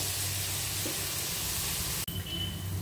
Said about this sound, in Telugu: ఈ కొద్దిగా రోస్ట్ అయినాక మనము మిగతా అవన్నీ వేసుకుందాము